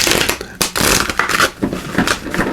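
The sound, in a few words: shuffling archetype cards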